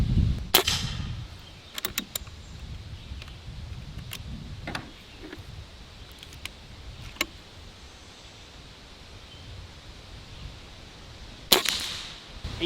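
A Barra 1100z Gen II airgun fires about half a dozen sharp, snappy shots, spaced irregularly over a quiet background.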